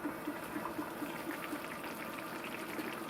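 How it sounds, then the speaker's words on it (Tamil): Mushroom kuzhambu curry bubbling in a covered pot, a faint, steady simmer with soft repeated pops and gurgles close by and no voices. "குழம்பு நல்லா கொதிச்சிட்ருக்கு."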